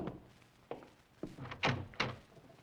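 A door opens in a radio drama, with a few separate knocks and thuds spaced over a couple of seconds, fairly close and with no talk over them.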